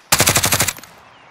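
Automatic gunfire in Call of Duty: Modern Warfare, a rapid burst of about eight close, loud shots lasting under a second, then fading to quiet.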